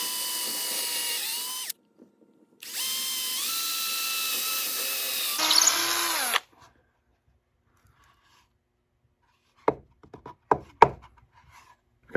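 A drill bores screw holes for the neck of a gourd ukulele, two steady whining runs with a short pause between them and a pitch shift near the end, followed by silence and a few sharp knocks.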